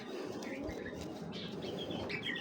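Racing pigeons at a pigeon farm, soft chirps and light wing flutters at low level against a busy background hum, brief and scattered.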